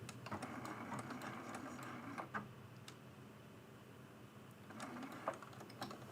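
A quiet, rapid mechanical rattle of a sewing machine stitching right next to a seam while a mug rug is bound, running steadily with small ticks and clicks over a faint background.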